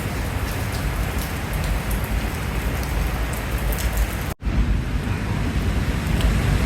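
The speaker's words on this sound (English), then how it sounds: "On a very rainy day." Heavy rain falls steadily on a city street in Taipei, a dense, even hiss that stays loud and close from start to finish, broken only by a brief dip near the end.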